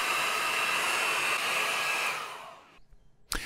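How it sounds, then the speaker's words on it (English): A heat gun blows steadily with a loud, broadband rushing hiss while drying layout blue on a Honda K20 A4 cylinder head, then cuts off near the end, followed by a short clunk as it is set down. "the layout blue just needs to dry now, or we can speed it up using a warm hot gun."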